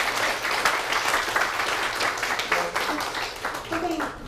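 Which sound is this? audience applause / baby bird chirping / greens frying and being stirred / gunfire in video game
audience applause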